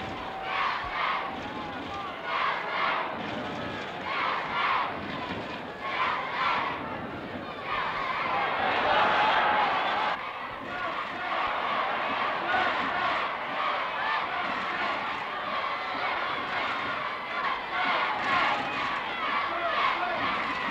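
Crowd of football supporters at a 1971 Chelsea match, a continuous roar of many voices with rising cheers and swells, heard from a distance through old recording hiss.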